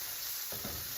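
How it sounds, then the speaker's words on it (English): Garlic frying in a pan with softened ingredients, a steady close sizzle that thickens into louder crackling partway through, with no talking. "We're going to cook them for about another minute with the garlic."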